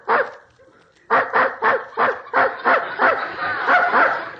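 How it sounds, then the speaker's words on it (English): A dog barks in the next room, one bark and then a quick run of about eight yaps and whimpering barks, fairly close and clear, with no talking over it. "There's that dog in the next room barking again"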